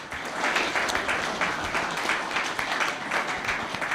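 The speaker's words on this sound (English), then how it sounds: "Round of applause for Luke Adams from the Richmond Footy Club." Audience at an Old Scholars Football Association awards evening clapping for an award winner, a steady, fairly loud spread of applause from a roomful of people lasting throughout, without talk.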